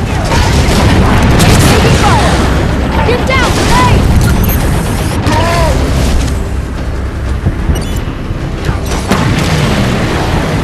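A grenade explosion amid a battle in Halo 5: Guardians: heavy booming blasts and gunfire under loud, shouted voices, with swooping energy-weapon whines across a dense, continuous combat din.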